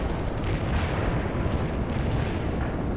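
Artillery shells pound a house in World in Conflict, a dense, continuous roar of blasts and rumble filling the whole stretch at high volume with no clear gaps.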